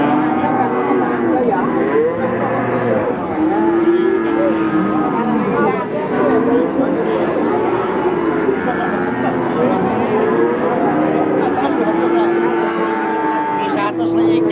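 Cattle low repeatedly at a livestock market in Pati, many overlapping moos near and far over a busy crowd murmur with people talking.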